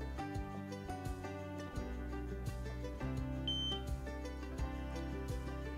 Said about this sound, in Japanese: ブザーがピッと鳴るまでパワーモードボタンを押し続けます。